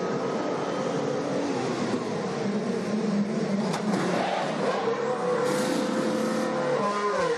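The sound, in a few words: Mercedes Formula 1 car leaving pit stop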